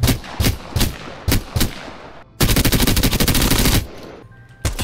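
Rapid automatic gunfire in the Apex Legends video game striking shields, with a few spaced single shots and then a long sustained burst, loud and close with a metallic ring and no talking.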